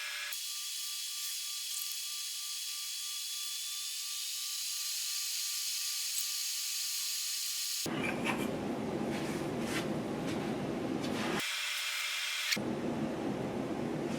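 A fine-tip tool writes a date freehand onto a sycamore wood spoon, giving a steady, faint hissing scratch with abrupt cuts between sections.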